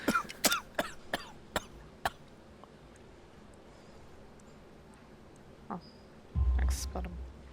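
A man coughs in a short, harsh burst of several close coughs at the start of a Sherlock Holmes: The Devil's Daughter game scene, his voice rough from coal dust; a quieter pause follows before a louder stretch of speech near the end.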